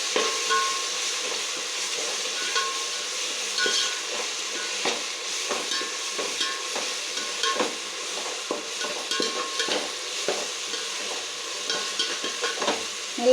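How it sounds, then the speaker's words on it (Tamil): Ginger garlic paste sautéing in hot oil for chicken biryani, a steady sizzle with frequent scraping stirs from a spoon, close and continuous with no talking. "போட்டு நல்லா வதக்கணும் இஞ்சி பூண்டு பேஸ்ட்."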